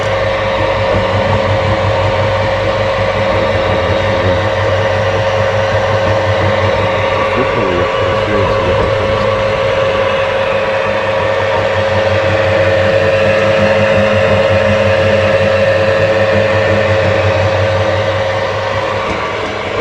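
A homemade electric apple slicer runs steadily, giving a continuous motor hum with a low drone and a buzzing whine, loud and unbroken for the whole stretch with no talk over it.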